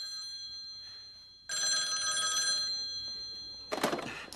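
A restaurant telephone rings in a film scene, a bright electronic ring that starts softly, swells loud after a pause, then breaks off into a short clattering burst.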